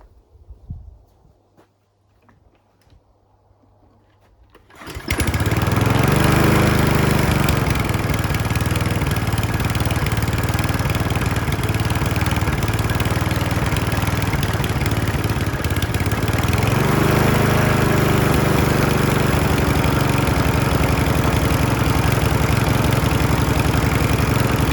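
A Mountfield RV40 150cc lawn mower engine is pull-started after a few quiet clicks, catching at once and then running loud and steady up close, with a slight rise in revs later on.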